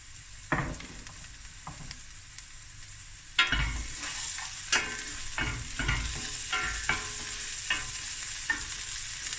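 Onions fry in a pan with a steady soft sizzle, punctuated every second or so by sharp scrapes and taps of a spatula stirring them.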